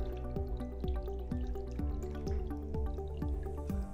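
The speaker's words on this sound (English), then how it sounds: "So we're adding our new seawater to the tank." New seawater is poured steadily onto rock in a home aquarium tank during a water change, making a continuous close, bubbling liquid patter with regular gurgling drips and no talking.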